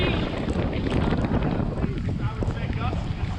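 Strong wind gusts across a marina dock at Madeira Beach, Florida, roaring and buffeting the microphone in a loud, continuous rush with rough surges.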